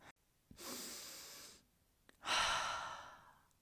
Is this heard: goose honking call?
no